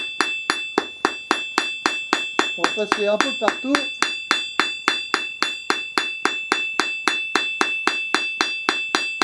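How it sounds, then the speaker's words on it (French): The ball end of a hammer strikes hot forged metal to texture it, giving a steady run of sharp ringing metallic blows, evenly spaced and close, while a voice speaks briefly over them. "Donc on va tout simplement venir taper avec la partie boule du marteau."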